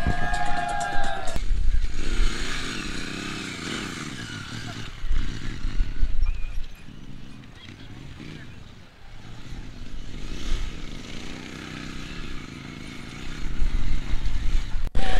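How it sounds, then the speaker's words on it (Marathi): Motorcycles race past at a rider mania time-trial event, with loud revving engines swelling and fading across the run and steady crowd or background noise underneath. "शेवटची रेस रायडर आकाश बडे यांची राहिलेली आहे."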